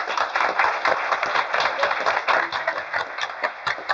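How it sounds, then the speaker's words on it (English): A round of clapping at a city council meeting for a group of young fundraisers, with individual claps audible in an uneven patter from a modest crowd, fairly close, alone without talk. "I would like to have a great round of applause for these young men and women here"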